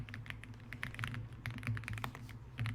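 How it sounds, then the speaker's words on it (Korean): Key presses on a computer keyboard during a basic computer class, typing and tapping the delete key, a steady run of quick clicks over a low hum. "키보드에서 딜리트 키 누르면 커서 기준으로 뒤쪽에 있는 글자 지워진다고"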